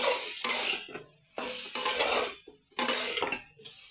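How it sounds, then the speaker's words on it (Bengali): A spoon scrapes around a pan of capsicum and spices for Shimla mirch kosha, in three distinct stirring strokes with short pauses between, close and clear with no talking. "মশলাগুলো দিয়ে দিয়েছি এবার একটু নাড়বো ক্যাপসিকামগুলো"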